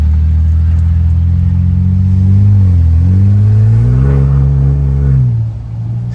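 A Ford Bronco Raptor with a CPE downpipe is driven, its engine and exhaust giving a loud, close, deep drone that rises and falls as the throttle is worked, then eases off at the end.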